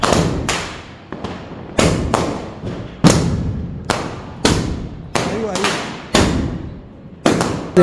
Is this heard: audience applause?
no